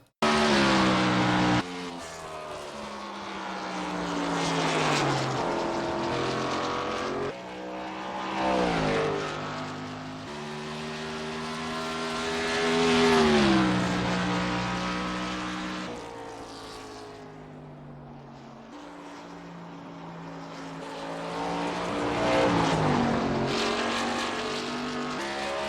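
An iRacing race car laps the Phoenix oval in the video game, its engine note rising and falling steadily with shifts and corners, loud and continuous with no talk.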